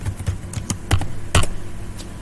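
Quick bursts of key presses on a computer keyboard entering a password, close and crisp clacks in irregular clusters with short pauses between them.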